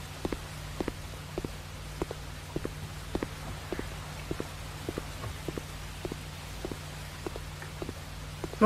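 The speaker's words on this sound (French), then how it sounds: "Je sens les bruits de pas" Steady, evenly paced footsteps in the horror video game Eggs For Bart, soft thuds repeating roughly twice a second over a low, quiet hum with no talking.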